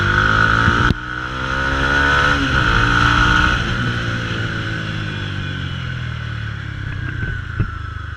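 Loud modified Mahindra Mojo motorcycle with its exhaust running without dB killers, a steady throaty drone with rising and falling revs, a sharp cut near the start and a brief pop toward the end.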